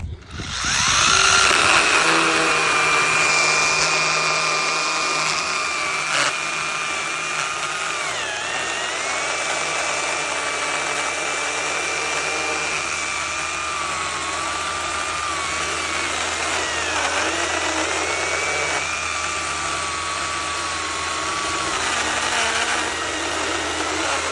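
Ryobi 8-inch cordless pruning saw, model R18CHS20, cutting through hard wood: a loud, continuous motor-and-chain whine runs throughout, its pitch sagging now and then as the blade bogs down in the cut.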